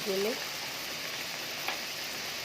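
Chopped onion, garlic and water cook in a hot wok with a faint, steady sizzling hiss.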